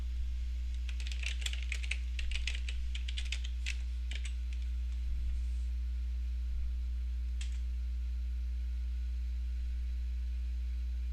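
Username and password being typed on a computer keyboard: a quick run of light key clicks for a few seconds, then a couple of isolated taps, over a steady electrical hum in a quiet room.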